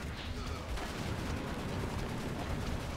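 Artillery in the Random Ability TD tower defense game pounds in a dense, continuous barrage of overlapping blasts and crackle, loud and unbroken throughout.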